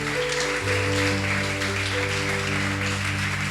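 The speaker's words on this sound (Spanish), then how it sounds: "denle un fuerte aplauso a Dios." A church congregation applauds steadily during a service. The clapping is a dense wash that carries on for several seconds, with sustained organ or keyboard chords underneath.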